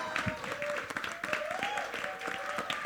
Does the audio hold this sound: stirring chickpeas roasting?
no